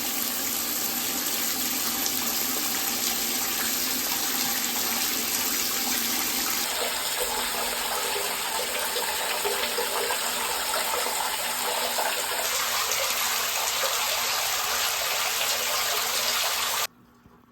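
Rinse water runs steadily through a bag of aquarium gravel for a 30-gallon tank, a continuous close rushing like a tap filling a sink, shifting in tone partway through and cutting off abruptly at the end.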